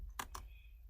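A few quick keystrokes on a computer keyboard while typing a ping command, two or three close, crisp clicks in a quiet room.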